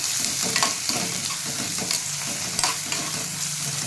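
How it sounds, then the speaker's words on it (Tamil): Curry leaves sauté with onions in a hot pan, a dense crackling sizzle with steady stirring scrapes, loud and close with no talking. "கருவேப்பிலை போட்டு நல்லா வதக்கிக்கலாம்"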